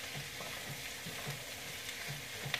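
Cabbage fries in rendered fat in a pan over medium heat, giving a steady, even sizzle and crackle that runs throughout at a moderate, close level with no talking.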